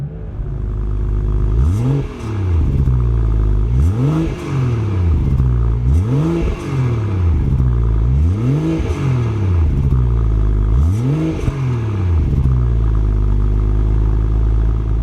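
A BMW M240i revving on the stock exhaust in Sport Plus mode, a regular series of about six sharp rev blips rising and dropping back to idle, loud and near, with no talking.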